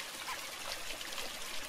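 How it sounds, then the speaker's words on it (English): Spring water trickling deep in a South African valley, a steady soft babble of small flowing water heard alone, fairly quiet and continuous without pauses. "spring water deep in the valleys."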